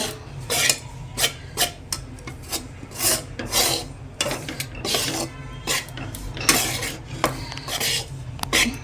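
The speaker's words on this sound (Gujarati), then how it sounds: "ધીમા શેકે સરસ એવો લોટ શેકી દઈશું આપણે જરૂર પડે તો ઘી નાખવાનું અંદર" Urad flour for Adadiya Pak roasting in ghee in a pan, scraped and stirred with a spoon in steady rasping strokes, close and fairly loud, with no talking.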